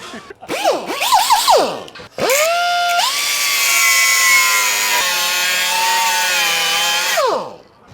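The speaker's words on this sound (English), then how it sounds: "cut off the old traction bar brackets, cleaned it up" A power saw cuts old traction bar brackets off the steel frame of a Ford F250 pickup: a few short revving bursts, then a loud, steady, high whine that holds for about five seconds before winding down.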